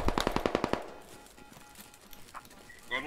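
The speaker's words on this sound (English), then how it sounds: "We are under heavy fire at the moment." Heavy automatic gunfire in the military shooter game Squad, set in Ukraine with US Army forces: a rapid burst of close, loud shots over the first second, then quieter distant firing and scattered battle noise.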